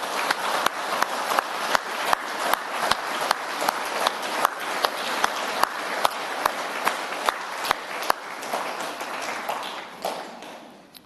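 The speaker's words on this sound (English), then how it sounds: "Let's give Kyle a big round of applause" Mourners at a funeral service for Kyle give a sustained round of applause, many hands clapping steadily with sharp individual claps standing out, fading slightly near the end.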